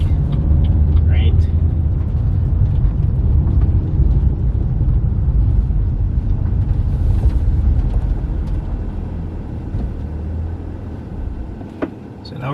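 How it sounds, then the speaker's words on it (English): Steady low road rumble and tire drone inside a car fitted with a carbon fiber roof, driving on interstate, highway and suburban streets, loud and continuous with faint voices underneath. "hopefully you get a sense of what road noise feels like"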